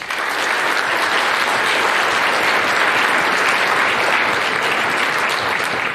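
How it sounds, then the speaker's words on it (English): A school concert band audience gives a full, sustained round of applause, a loud, even roar of many hands clapping that holds steady with no pause. "So if we could please give them a round of applause."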